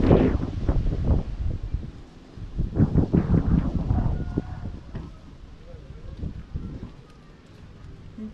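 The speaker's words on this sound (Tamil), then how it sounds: "காற்று நல்லா அடிக்குது" Wind gusts buffet the microphone on the stone steps up to the Sivanmalai hill temple near Kangayam, Tiruppur, coming as repeated rough rumbling bursts with quieter gaps between them.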